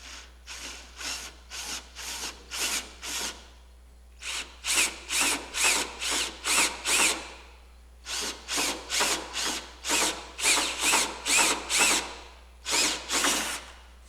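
Power drill boring compound angle holes in wood, sounding as rapid repeated bursts of whirring roughly a second each in steady series with brief pauses between groups, close and loud with no talk.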